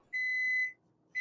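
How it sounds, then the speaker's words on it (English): A microwave thawing food gives a clean, steady electronic beep lasting about half a second, then a second beep starts after a short pause. "Somebody's beeping."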